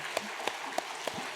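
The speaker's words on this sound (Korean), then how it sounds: "우리 함께 박수로 축복하겠습니다" Church congregation at an early-morning prayer service clapping in blessing for students and youth, a handful of slow, rhythmic claps spaced evenly over a quiet room, fairly faint.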